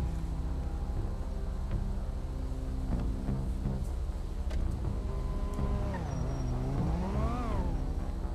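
A car engine driving in GTA 5, a steady droning engine hum throughout with a rising and falling rev near the end, fairly close and continuous.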